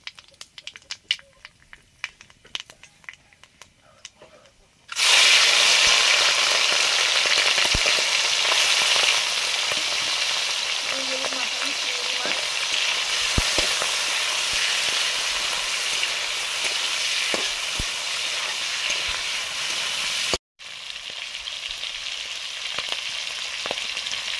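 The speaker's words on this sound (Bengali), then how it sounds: "সর্ষের তেল দিলাম, কালো জিরে" Black cumin seeds dropped into hot mustard oil for a prawn dish, after a few quiet clicks an abrupt, loud, steady frying hiss bursts out up close and runs on, briefly cut off near the end before resuming more softly.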